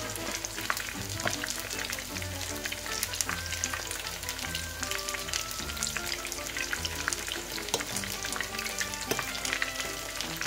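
Anchovy fritters frying in very hot oil, a loud, dense crackling sizzle that continues without a break.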